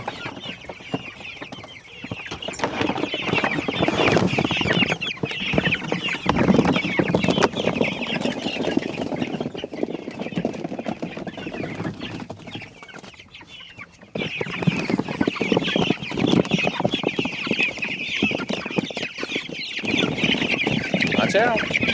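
Chickens clucking out on open pasture for the first time, a steady busy chatter of hens close by that runs almost without a break, with a person talking over it.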